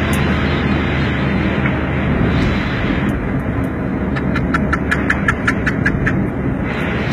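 A tractor engine roars loud and steady throughout, a dense close rumble with faint rhythmic clicking ticks rising over it midway.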